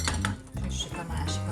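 A hot Teflon pan on a full flame while a keto hemp-seed pancake fries, with utensils scraping and clinking against it in quick, irregular knocks, close and fairly quiet.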